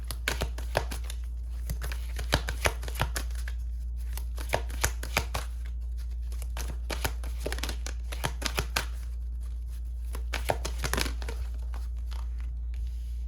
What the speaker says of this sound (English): Let me get some more cards.